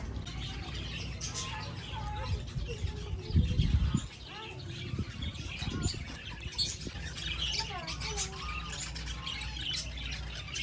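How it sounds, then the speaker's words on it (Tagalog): Parakeets at a zoo chirp and squawk in a busy flock, a constant scatter of high calls. Occasional wing flaps and handling noises come through, along with a low background murmur. "may parakit dito, ang dami"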